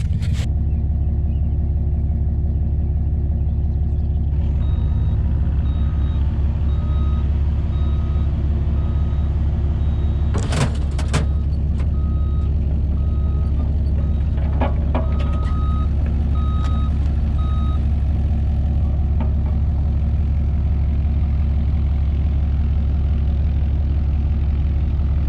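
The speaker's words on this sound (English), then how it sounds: "this is my second time ever running the Mini X, or any excavator for that matter" A mini excavator idles and runs with a steady low diesel rumble, intermittent reversing beeps sounding over it, plus a few sharp clanks midway.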